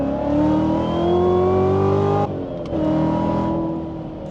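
A supercharged Chevrolet Corvette C7 Z06 accelerates hard, its engine note climbing loud and close with an audible whine, then dropping briefly at a shift before pulling again and fading.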